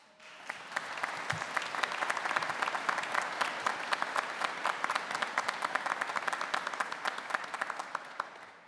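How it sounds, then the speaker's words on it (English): Sustained applause from a large audience at a university ceremony, dense and even, holding steady from start to finish with a slight build after the first half-second. "You all receive a huge applause for that."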